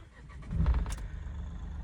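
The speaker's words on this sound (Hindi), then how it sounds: "एंड एक बार ना मैं कार को स्टार्ट करता हूँ।" A Mahindra Bolero Neo N4 base model car, 2022, with a three-cylinder engine, cranks and starts close by, settling into a steady idle rumble.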